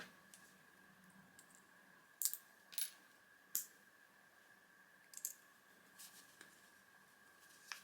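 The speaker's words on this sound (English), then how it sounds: "So I will probably use my wire cutters to trim that" Small wire cutters snip craft wire while making a fabric butterfly shoe charm, giving several sharp, faint clicks spaced irregularly over a quiet room with a steady hum.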